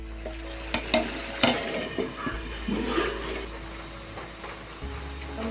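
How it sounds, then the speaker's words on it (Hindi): Papaya pieces frying with spices in a pan give a steady low sizzle, broken by a few sharp stirring scrapes and clinks of a utensil against the pan, close up and with no voices. "इसे भी हम भुनेंगे मसाले के साथ साथ"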